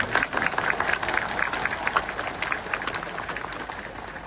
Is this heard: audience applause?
yes